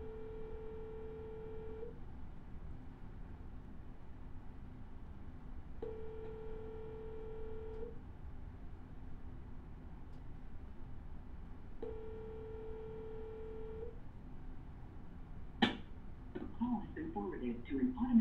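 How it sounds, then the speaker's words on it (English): An outgoing phone call rings unanswered, its ringback tone sounding three times in steady two-second bursts with long gaps, then a click as a person begins talking at the end. "let's start banging out the phone calls and try to get some people on the phone"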